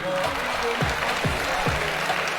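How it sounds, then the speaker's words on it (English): Audience of new students at a university orientation programme clapping, a dense continuous patter of many hands with a few low thumps and faint voices mixed in. "If you are not clapping very well, we will not end this event today."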